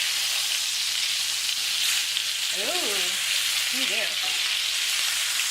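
A flipped filet mignon for steak au poivre sizzles in a hot pan with a dense, even hiss throughout, while a voice briefly exclaims midway.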